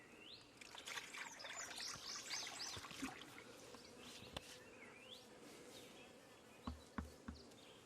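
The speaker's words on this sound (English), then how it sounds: "Little bees going in the entrance loaded with pollen." Honeybees crowd a hive entrance carrying pollen, their close, steady buzzing humming throughout, with bird calls chirping in the background and a few soft knocks near the end.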